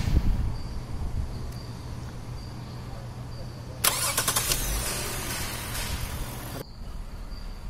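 A car engine running after its catalytic converter was cleaned, a faint steady idle hum with a louder burst of rattling, rising mechanical noise in the middle before dropping back to a quieter background.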